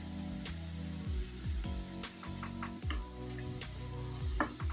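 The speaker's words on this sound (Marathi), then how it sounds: "आता तेल छान तापलेलं आहे. आता याच्यामध्ये थोडंसं आपण बटाट्याचा किस टाकूया." Shredded potato for batata chiwda frying on high heat in hot oil, a steady loud sizzle with repeated scraping stir strokes through it, no voices.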